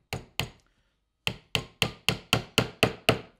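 Nails hammered into a wooden hinge-routing jig: two sharp knocks, a short pause, then a rapid even run of about eight more close, loud hammer blows with quick decays.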